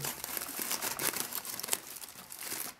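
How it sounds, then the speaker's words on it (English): A wrapped protein calzone being unwrapped close up, its wrapper crinkling and rustling continuously with small sharp crackles and no talking. "But let's unwrap what's in here."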